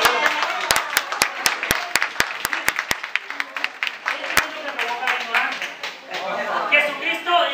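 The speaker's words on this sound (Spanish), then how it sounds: "Testigos de Cristo, un aplauso." Several sharp hand claps ring out in an evenly spaced burst inside a church, then the congregation breaks into a fuller round of applause, with voices mixed in toward the end.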